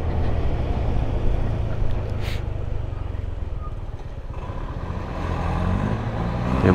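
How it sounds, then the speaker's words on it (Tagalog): A truck grinds along a steep mountain road in Benguet, its engine a steady low rumble heard from close by, with faint wind noise and no talk. "Truck, oh. Naghahakot siguro ito ng mga pananim,"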